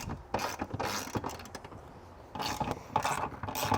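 A 13mm socket ratchet works a factory bolt loose on a 2024 Ford Bronco, with quick bursts of close metallic ratchet clicking and grinding in short strokes, separated by brief pauses.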